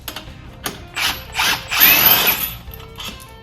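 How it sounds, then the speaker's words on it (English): Ratchet wrench removing the secondary clutch bolt on a Polaris Ranger 900 during a DuraClutch R-Series kit install, heard as a few short bursts of rapid clicking, fairly close, with no talk. "So we're going to start with taking off the secondary bolt."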